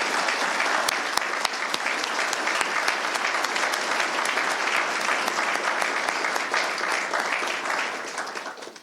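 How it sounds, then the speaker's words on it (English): A crowd at a Richmond fire department badge promotion ceremony gives sustained, loud applause for newly promoted firefighters, dense clapping with a few distinct near claps, holding steady before fading at the end. "ladies and gentlemen, one more round of applause for our promotees"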